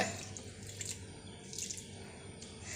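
Water poured steadily from close by onto potted garden plants, a continuous soft splashing trickle with no pauses.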